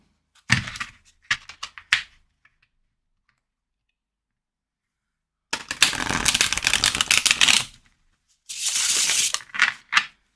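Tarot cards being shuffled in a few quick riffle bursts: short flutters early, then two longer, louder shuffles later, with quiet gaps between. The cards are flexible.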